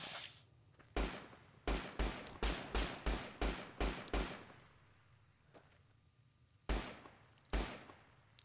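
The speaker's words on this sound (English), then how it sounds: "I just shot one random shot just for the heck of it" Gunfire in Fallout: New Vegas: a sharp single report, then a rapid string of about eight loud shots in quick succession, followed by two more spaced shots, each with a short decaying tail and no speech.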